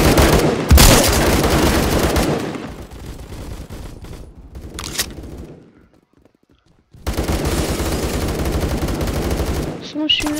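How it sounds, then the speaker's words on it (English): Rapid bursts of automatic gunfire in Roblox Phantom Forces, loud and close, with a long sustained volley, a brief pause, isolated shots, then another extended burst of firing. "someone's shooting at me?"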